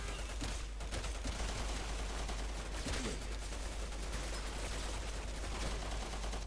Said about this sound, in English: I was getting shot by a guy right next to me